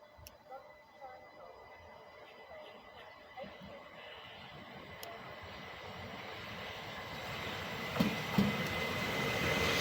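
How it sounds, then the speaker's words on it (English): A Southeastern train pulls out of platform 3 at Sevenoaks towards Hastings, its low rumble starting faint and distant and slowly swelling louder over several seconds. "Now departing platform 3 at Sevenoaks is a Southeastern service towards Hastings from London Charing"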